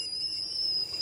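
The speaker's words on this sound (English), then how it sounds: "I love catching the kettle whistling." A kettle on a camper van stove gives a thin, steady high-pitched whistle lasting the whole second, faint and alone.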